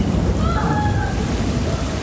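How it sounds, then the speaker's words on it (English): Heavy rain pours steadily through a thunderstorm in Clearwater, a dense continuous wash of rainfall with low rumbling thunder beneath, loud and close throughout. "Heavy rain falling and lightning striking in Clearwater earlier today."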